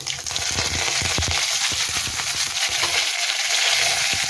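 Curry leaves and dried red chillies sizzle steadily in hot oil while tempering a moong dal kulambu, a loud continuous crackle with scattered sharper pops throughout.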